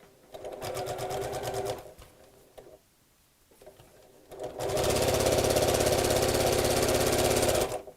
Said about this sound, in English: sew straight across on my machine